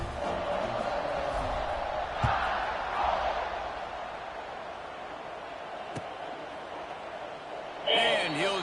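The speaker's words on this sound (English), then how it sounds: "this crowd is buzzing after that last score" A stadium crowd in a college football video game buzzes steadily after a touchdown, a dense, continuous roar that holds at an even level with a couple of brief swells.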